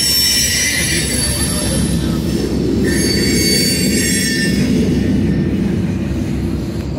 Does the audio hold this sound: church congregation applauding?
no